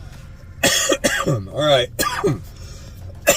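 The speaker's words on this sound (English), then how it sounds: "Excuse me, still dealing with the cough." A man coughs in several harsh bursts, some rasping and drawn out, mixed with throat clearing, close and loud, and he speaks briefly between them.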